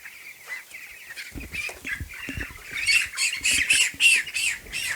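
Meat chickens being caught by hand in a pen squawk loudly and repeatedly at close range, with a rapid run of harsh cries and flapping bursts.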